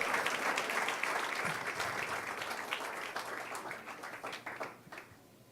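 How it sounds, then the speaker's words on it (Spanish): Church congregation applauding together at a Spanish-language worship service, a steady wash of many hands clapping that holds for several seconds and then thins out and fades. "¿Cuántos creen y cuántos pueden aplaudir y llevarse esa palabra?"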